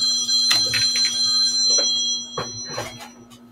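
A mobile phone rings on and on during a talk broadcast, a steady electronic ringtone with repeating bursts. It is fairly loud and close throughout, with no one speaking.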